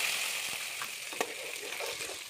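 Spice paste dropped into hot oil with whole cumin seeds in a kadai for paneer gravy, giving a steady hiss of frying close by, one brief knock partway through, and no voices.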